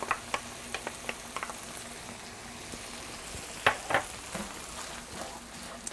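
Marinara sauce being stirred into a sizzling pan of linguine with clam sauce: a steady frying hiss under irregular scraping and clacking of the spoon against the pan, close by and with no talking.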